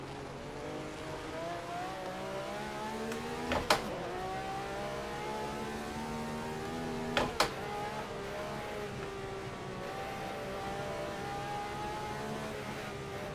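A Ferrari 312 race car engine drones steadily in a racing simulator game, holding a sustained high-revving tone with slowly shifting pitch and two brief sharp knocks, at moderate level with no talk.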